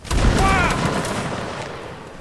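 A massed volley of muskets fired by a line of infantry in the Napoleonic Wars battle game Mount and Blade, a sudden loud crackling burst that rolls and decays over two seconds.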